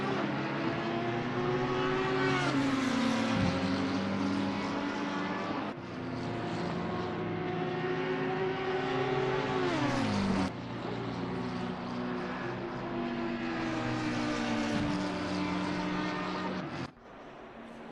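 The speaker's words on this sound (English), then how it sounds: "Here we have an Audi and a McLaren battling." Audi and McLaren race cars battle in a racing video game at Zandvoort, their engines droning loudly and continuously. Repeated rising revs drop sharply at each gear change, with no talk.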